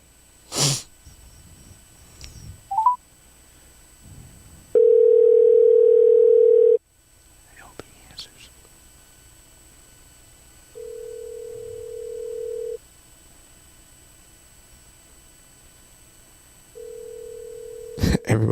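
Telephone call tones: a steady dial tone sounds loudly for about two seconds, followed later by two shorter tone bursts, with faint background noise and brief sniffs between.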